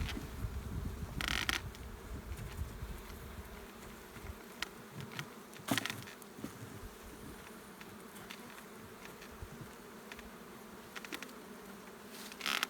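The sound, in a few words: honeybees buzzing around an open hive during a brood check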